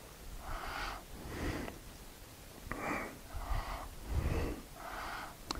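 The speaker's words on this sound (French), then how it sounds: "Expire en descendant." A person breathes rhythmically during a Kundalini yoga movement, with about six breathy, wheezy exhales and inhales in a regular pattern, close and fairly soft.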